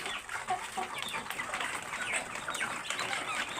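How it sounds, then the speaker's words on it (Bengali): Chickens eat homemade feed as a quiet, busy flock, with faint clucking and pecking and a little wing movement heard from some distance. "দূর থেকে দেখেন প্রতিটা মুরগি স্বতঃস্ফূর্তভাবে তাদের সর্বোত্তভাবে খাবারটা খাচ্ছে"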